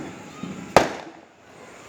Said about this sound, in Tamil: நல்லா வெடி வெடிப்பாங்க பாருங்க